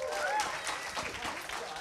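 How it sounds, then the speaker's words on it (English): A short burst of audience applause and cheering for a speaker at an event, a dense continuous wash of clapping with crowd noise, moderately loud and steady. "I think we should give Dan a bit more of a cheer than that"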